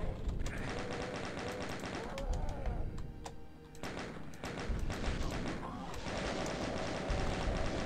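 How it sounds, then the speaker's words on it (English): Doom 2 chaingun firing at a cacodemon, fast repeated loud gunshots in sustained bursts with short pauses, someone talking over the shooting. "Use the chain gun to just kind of stun him there."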